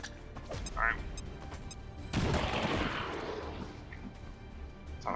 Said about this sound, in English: I kinda wanna throw a grenade at this guy, though, to make sure he dies.